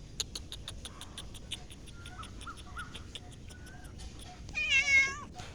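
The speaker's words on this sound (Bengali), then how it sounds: "ম্যাও ম্যাও করো কেন?" A cat meows repeatedly at close range while being fed, with a louder, drawn-out meow near the end over a quiet background.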